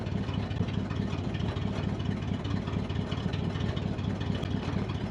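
An International 4x4 truck engine idles steadily and fairly quietly, a continuous low rumble with no talk over it.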